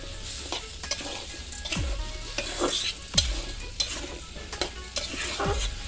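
Taro sizzles and fries in a pan, with repeated scraping stirs and a few soft thumps of the utensil against the pan over a steady crackling hiss.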